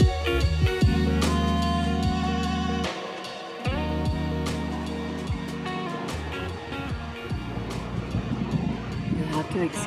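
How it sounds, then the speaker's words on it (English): Steady low rumble of wind buffeting a microphone, continuous and loud throughout, with a voice talking over it and occasional clatter in the background. "You'll have to excuse the wind noise."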